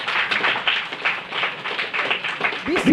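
An audience in a business club talk claps together in a steady patter of applause that holds for several seconds at moderate loudness, with a brief voice near the end.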